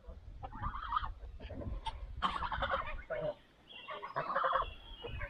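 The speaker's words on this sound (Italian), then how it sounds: "Qua ci sono anche delle oche." Geese honking outdoors near a hermitage, a series of loud raspy gabbling calls in irregular bursts with short pauses, fairly close and heard alone.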